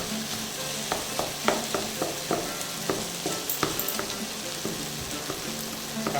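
Stuffed capsicum masala mixture frying and stirred in a pan: a soft steady sizzle with frequent quick scraping and tapping strokes from the spoon, close and fairly quiet, no talk.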